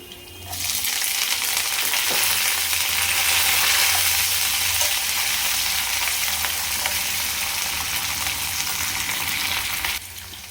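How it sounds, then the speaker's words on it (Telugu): Onions, green chillies and curry leaves fry in a pan for a banana pittu dish, a loud steady sizzle that starts abruptly and holds for about ten seconds before cutting off. "కొద్దిగా వేపుకున్నాక దీంట్లోనే కొద్దిగా ఉల్లిపాయలు పచ్చిమిరపకాయలు కరివేపాకు"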